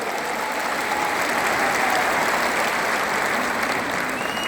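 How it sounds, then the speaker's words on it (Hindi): A crowd at a gathering with the Chhattisgarh chief minister and teachers applauds steadily, dense sustained clapping at a constant level throughout with no speech over it. "और एक बार लौह पुरुष भूपेश बघेल जी के लिए जोरदार ताली बजा सम्मान कर दो।"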